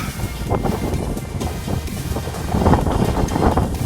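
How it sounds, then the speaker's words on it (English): Strong wind on a high spot in Scotland buffets the microphone in a continuous, rough roar that surges louder toward the end, with no voices. "it's really windy up here"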